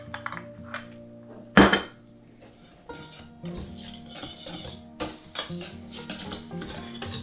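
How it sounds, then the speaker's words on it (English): Dry flour with sugar, baking powder and salt being whisked in a bowl, a light scraping rustle broken by sharp clinks of the whisk and utensils against the dish, close and fairly quiet. "Now we're gonna take our sugar, baking powder, and salt, and add them all to the flour and whisk together."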